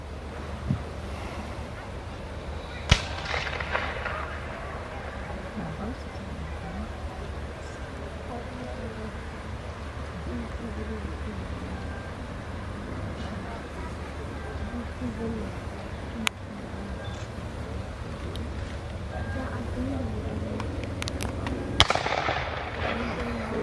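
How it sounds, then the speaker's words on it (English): Gunfire and artillery at a Civil War battle reenactment of the Corinth, Mississippi fighting, with sharp distant reports scattered over steady wind and crowd rumble, a few louder bangs standing out, while a voice narrates over the outdoor ambience. "The firing getting heavy, the infantry supports are beginning to fall back."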